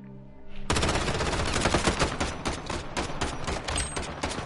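In a video game, sustained machine gun fire strafes in a dense, rattling stream that starts abruptly after a moment of quieter sound and stays loud to the end.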